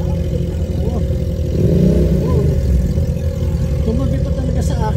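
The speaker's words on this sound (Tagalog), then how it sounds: "ang ingay-ingay ng motor" Motorcycle idling and revving right beside a person stopped in traffic at roadworks in the UK, a loud, close, continuous low engine drone that swells briefly midway, with a voice speaking over it.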